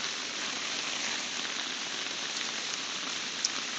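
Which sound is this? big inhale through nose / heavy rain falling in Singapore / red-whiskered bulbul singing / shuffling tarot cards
heavy rain falling in Singapore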